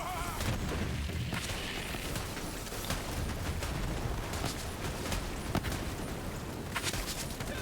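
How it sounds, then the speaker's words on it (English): Shoulder cannon fire during chaotic Borderlands 3 combat, a dense, continuous wall of booming blasts and gunfire with no pauses, loud and close throughout. "Let's put in a little bit of shoulder cannon work."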